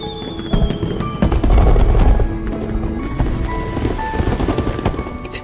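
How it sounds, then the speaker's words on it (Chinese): Fireworks explode outdoors in a rapid, irregular string of sharp bangs and crackles, loud and close, forming a dense, continuous barrage. "居然还有烟花。"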